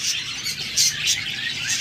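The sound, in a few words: albino red-eye budgerigar pair chirping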